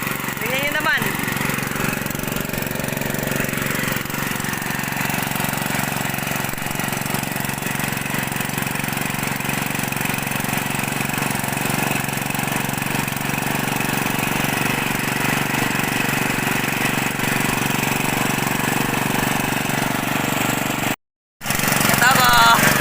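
A motorcycle engine runs steadily throughout while riding through high-tide floodwater over a road in Taliptip, Bulakan, with a loud continuous rumble and brief dropout near the end.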